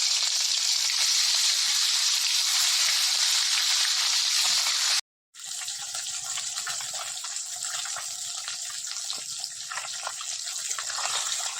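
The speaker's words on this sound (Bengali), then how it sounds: "এবার তেলটা আমার গরম হয়ে গেছে এবার মাছগুলো ভেজে নেব" Pieces of rui fish frying in hot oil, a steady, bright sizzle that breaks off for a moment and then resumes, close up and without talk.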